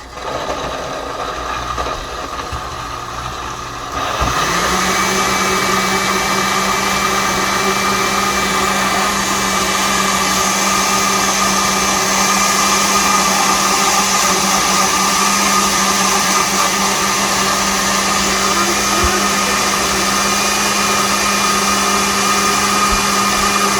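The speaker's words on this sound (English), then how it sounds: "So now we're going to press the start button to blend everything together." Countertop blender switching on after a few seconds of quiet, then whirring loudly and steadily as it purees dragon fruit, grapes and strawberries into a smoothie, a constant motor drone with a sustained pitch.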